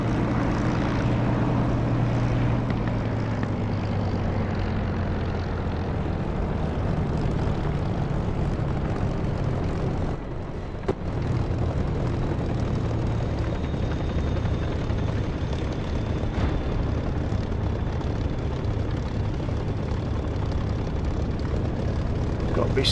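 A Spitfire's propeller engine drones steadily and loudly at a constant pitch throughout, in the DCS flight simulator.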